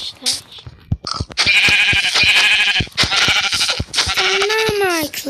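Sheep in the Minecraft video game bleating repeatedly in loud, close, wavering cries with short clicks and thumps between them.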